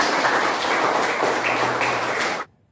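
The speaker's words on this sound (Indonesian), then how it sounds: "tepuk tangan untuk Anda" A classroom of students claps together in a steady, dense burst of applause lasting a couple of seconds, then stops abruptly.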